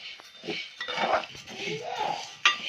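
A ladle scrapes and clinks against a pan while lentils dry-roast slowly for a traditional kandi podi powder, a close, steady stirring rattle with a sharper metal knock near the end, with speech over it.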